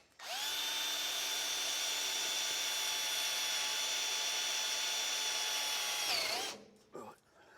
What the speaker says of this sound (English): I've got a centre drill which will